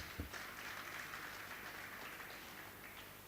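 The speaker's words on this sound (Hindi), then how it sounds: "एक जोरदार तालियां बजा दें" Applause from an audience at a Hindi literary and poetry gathering, a dense, steady wash of clapping lasting throughout with a brief sharper burst near the start, no voices over it.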